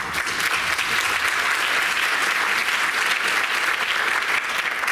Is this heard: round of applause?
yes